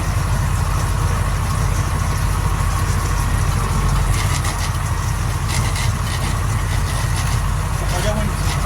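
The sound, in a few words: tractor engine running while pulling a dual spreader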